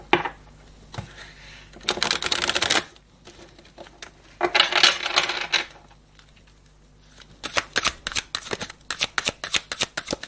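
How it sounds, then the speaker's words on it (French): Playing cards handled and drawn from a deck in bursts of crisp riffling and flicking, close and fairly quiet, with pauses between groups of quick snaps. "Et on va prendre 3 cartes de ce jeu."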